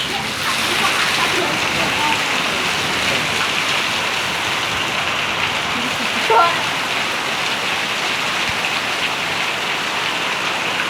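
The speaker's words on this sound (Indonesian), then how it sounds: "Wilayah Kedongombo diguyur hujan deras." A downpour in Kedungombo, Nganjuk, makes a constant broad hiss of rain on surfaces with scattered close splashes, steady and loud from start to finish.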